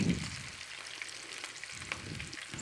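Onion rings frying in hot oil in a home kitchen, a soft, steady bubbling sizzle with faint crackles and a couple of low bumps at the edges, quiet and without talking.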